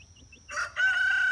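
A young Silkie rooster kept with two hens gives a short, close crow after a few faint chirps, the call rising then holding a strained, wavering note.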